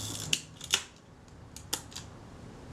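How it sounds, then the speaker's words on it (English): An early Kodak Retina Ia camera's shutter fires a few times at higher speeds, giving small crisp mechanical clicks and snaps spaced irregularly, close up and quiet against a faint background. "The shutter certainly works at the higher speeds"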